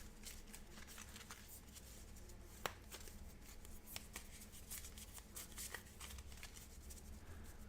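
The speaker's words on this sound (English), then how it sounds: "We're going to shuffle her deck one more time." A deck of Marvel Match-Up cards is shuffled by hand, a quiet run of close papery riffles and soft taps with one sharper snap, no talk.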